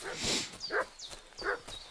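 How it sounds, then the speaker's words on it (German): Dog in Kingdom Come: Deliverance 2 barking in a medieval village, three short bursts spaced about three quarters of a second apart, with a faint high whine between them. "Oh, der Hund bellt."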